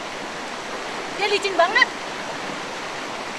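Rushing water of a river below a waterfall during heavy rain forms a dense, constant roar, with a brief bit of speech heard over it.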